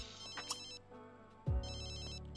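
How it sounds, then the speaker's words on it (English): A phone ringtone in a video game chimes in bright, repeated melodic beeps, broken by a brief pause and then resuming, fairly quiet with no talk. "Let me have her answer her phone"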